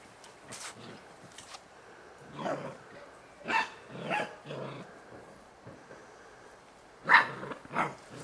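Several dogs bark in short bursts, some closer and louder, with pauses between and a few sharper yips near the end.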